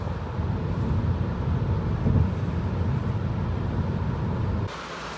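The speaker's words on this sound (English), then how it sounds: "Now, we're driving in the tunnel" Steady road and wind roar inside a 2021 Tesla Model 3 Long Range driving through a tunnel, a continuous dense rumble that drops and thins abruptly near the end.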